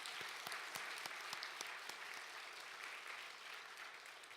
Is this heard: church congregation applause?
yes